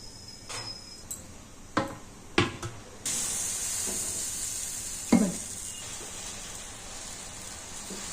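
Crispy protein dosas frying on a hot pan, a soft sizzle punctuated by several sharp scraping and tapping knocks, then a louder steady hiss of batter cooking.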